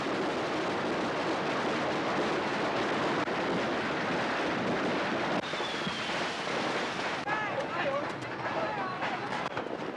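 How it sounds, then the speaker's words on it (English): Continuous dense crackle of firecrackers bursting everywhere at Tet midnight in spring 1992, a loud relentless barrage with no pauses, mixed with crowd noise and voices in the background. "As midnight approaches, the sound of firecrackers is everywhere."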